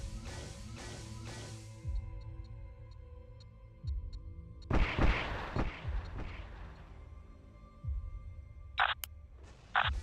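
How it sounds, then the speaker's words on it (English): Missile salvos launched by two frigates in the space combat game Nebulous Fleet Command: a loud burst of launches, a second heavy whooshing salvo midway, sharp clicks and brief beeps between, no talking over it. "Okay, 2 salvos. Firing missiles."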